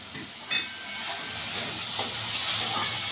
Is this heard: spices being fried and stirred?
yes